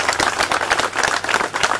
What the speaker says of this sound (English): Let us give them a hand clap one more time,